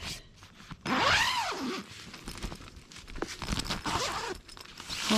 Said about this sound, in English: What's nice is it's got a double zipper.